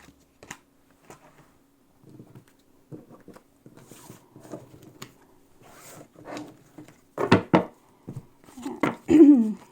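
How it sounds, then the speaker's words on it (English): Tarot cards gathered into a pile and shuffled, producing soft, close, scattered card taps and riffles that grow busier toward the end, with brief murmured speech mixed in. "Okay, so I'll take together these cards."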